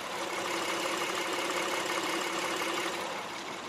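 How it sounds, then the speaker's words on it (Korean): An imported full-size full-time four-wheel-drive SUV with about 40,000 km on it idles with a steady, even, quiet engine hum, heard alone without talk. "엔진 소음 먼저 들려드리면은"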